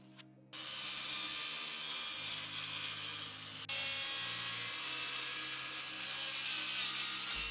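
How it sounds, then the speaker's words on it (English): Marine plywood being cut to width for a DIY canopy trailer build, a steady continuous saw drone running loud and unbroken, with a brief break midway before carrying on. "we'll mark the marine ply and cut it to width"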